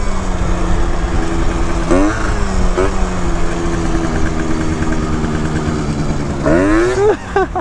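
A Yamaha Zuma BWS scooter engine revs continuously during wheelies, its loud droning note climbing in sharp swoops around two and seven seconds as the throttle is twisted, with wind rush throughout.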